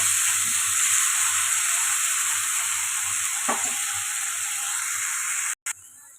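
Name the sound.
tomato puree frying in a pan for mutter paneer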